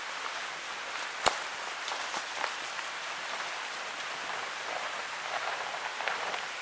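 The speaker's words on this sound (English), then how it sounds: "it's been raining non-stop for the past couple days" Steady rain patters down outdoors, a dense hiss with scattered heavier drops and one sharp tap near the start.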